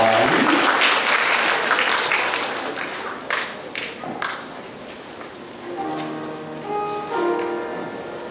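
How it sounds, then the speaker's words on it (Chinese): Applause welcoming Chairman Guo and the Yucai choir to the stage at a choir performance, loud dense clapping from the audience that gradually thins out, followed by a few scattered claps and faint tonal music. "热烈掌声欢迎郭董事长以及育才合唱团。"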